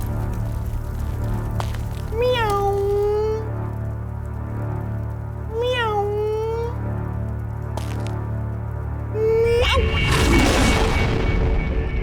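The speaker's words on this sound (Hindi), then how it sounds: "छोटी सी प्यारी सी बिल्ली है" A small, hungry cat meows three times in a historical drama scene. The drawn-out meows are clear over a steady low background, and a loud crash follows near the end.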